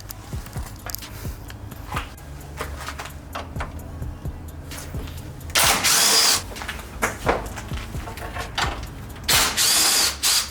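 A cordless impact gun whirs and rattles in several loud bursts, close up, removing bolts from an Acura RSX, with quieter clanking and ratcheting between them.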